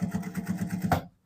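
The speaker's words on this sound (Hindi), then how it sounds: "किनारे की सिलाई लगा देते हैं हम अंदर" A sewing machine runs steadily while stitching along the edge of a shirt collar, its fast, even needle rhythm close and continuous for about a second before stopping abruptly.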